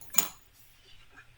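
A metal spatula being picked up and handled, giving one short bright clink followed by faint scraping and tapping, close and quiet.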